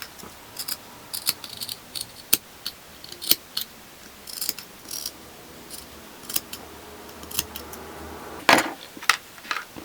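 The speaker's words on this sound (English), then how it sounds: "Now I'm just cutting out circles to put along like the back" Scissors snip repeatedly through fabric scraps, cutting out small circles, the short crisp cuts arriving in an irregular rhythm close by with no voice and a slightly louder rustle near the end.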